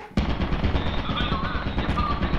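An automated turret in Lethal Company opens fire in a sudden loud burst, then keeps up rapid continuous gunfire throughout, close and harsh.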